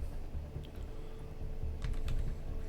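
Light, irregular key clicks from a keyboard, a quick flurry of typing near the end over a steady low hum.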